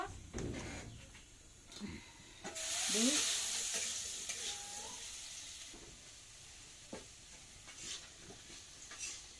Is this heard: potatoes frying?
yes